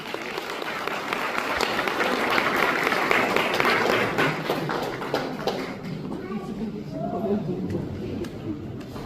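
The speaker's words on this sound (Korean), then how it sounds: "박수로 모시겠습니다" Wedding guests applaud, a dense, steady round of clapping from a crowd filling most of the stretch before tapering off, with some chatter and a voice speaking as it fades.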